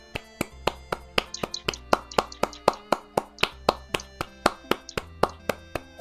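A single person claps their hands in a steady, fairly quick rhythm, about two dozen sharp, close claps with a brief cluster of quicker ones, and no talk.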